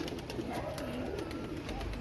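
Tournament racing pigeons take off and settle in a Rajkot loft, a rapid fluttering of wings beating in quick pulses, close and steady for a couple of seconds with no talk.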